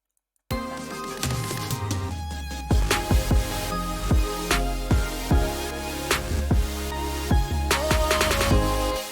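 Electronic music drop built from lush pads and reverb-drenched vocals, with sharp rhythmic hits and stabs landing over a sustained low bed, loud and without talk.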